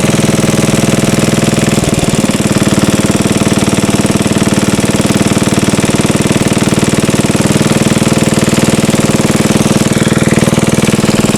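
A 74-year-old Briggs and Stratton engine running on a dyno, a loud, continuous, rapid mechanical drone with a brief rattling change early on, steady and close throughout with no talking.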